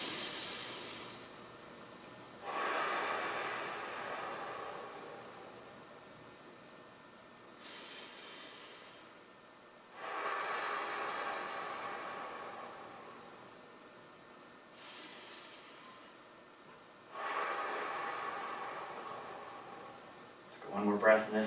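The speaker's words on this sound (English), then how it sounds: "In through the nose, fill that belly all the way up, stretch that spine with the breath" Deep, slow breaths drawn in through the nose during a seated stretching routine, swelling in and fading in long, even cycles roughly every five to seven seconds, soft and close, with quiet lulls between them.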